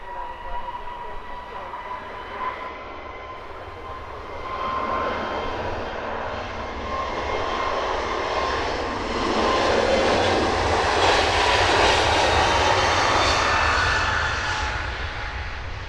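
A Wizz Air airliner on its takeoff roll at Luton Airport at sunrise, its jet engines building from a distant rumble to a loud, swelling roar that peaks near the end as the aircraft climbs away.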